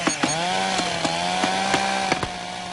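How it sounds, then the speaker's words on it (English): A chainsaw runs steadily at close range, its buzzing engine note punctuated by a series of sharp, regular ticks. "I told you to lose that chainsaw."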